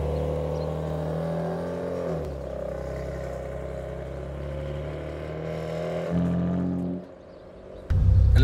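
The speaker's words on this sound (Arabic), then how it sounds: "الاكزوست مش محطوط على السبورت، محطوط على سبورت بلس، فالصوت شوي منخفض اكثر من العاده" A BMW M2 Competition, its 420-horsepower engine shared with the M4, runs with the exhaust set to Sport Plus. A deep, close exhaust note idles and swells in a few revs, then drops away, and a sharp louder burst comes at the end.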